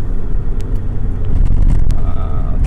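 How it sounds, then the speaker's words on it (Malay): A Proton Satria R3 DSR hatchback being driven, its engine and road rumble a steady, close, loud drone with small bumps and shifts throughout, no voices. "memandu Satria R3 DSR"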